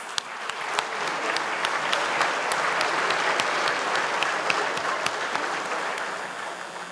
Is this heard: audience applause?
yes